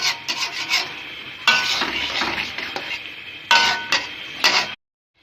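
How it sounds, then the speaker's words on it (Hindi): Dumba mutton karahi with rendered fat being stir-fried in a pan, a close scraping and rasping of the utensil against metal in loud bursts with brief pauses, then cutting off into silence. "इस तरह आपको इसको भूनना है।"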